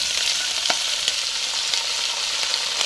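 Cabbage goes into a pan of frying shrimp, giving a loud, steady, close sizzle with a few light clicks from a spatula.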